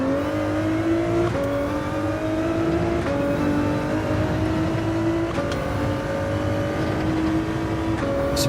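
Race car engine in the Gran Turismo 7 racing game, a steady loud drone with gear-change steps and rising revs as the loose car slides around a track, with no talk.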